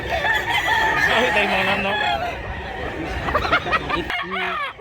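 Chickens and roosters at a busy rooster market in Mantalongon, Barili, Cebu: overlapping clucks and squawks crowd the air, and a nearby rooster crows near the end, with faint voices murmuring underneath.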